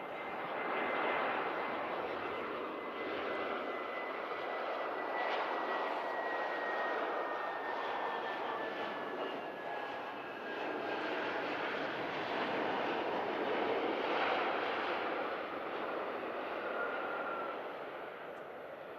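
Airliner arriving on approach to runway 05 at Manchester Airport, a broad steady jet engine roar with a thin whine drifting downward, sustained and moderately distant, swelling slightly as it passes.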